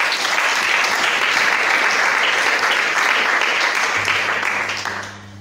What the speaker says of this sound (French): Si vous pouvez vous applaudir vous-même.